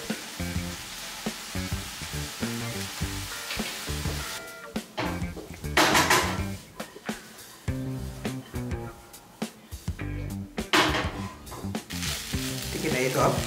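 Hakka noodles with vegetables stir-fried and tossed in a wok, a steady sizzle with clattering scrapes and tossing bursts that swell and fade, a voice talking over the cooking throughout.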